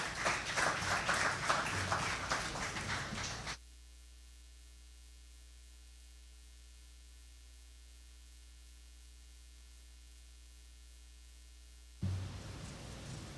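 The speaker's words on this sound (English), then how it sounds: "let me give her another round of applause, please" An audience at an exhibition launch claps in a dense burst of applause for a few seconds; it cuts to a low electrical hum, and clapping swells again near the end.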